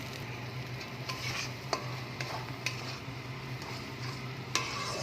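Mustard and poppy seed paste goes into a pan for a prawn malaikari, giving a soft sizzle with occasional scrapes and clicks of stirring, fairly quiet and steady.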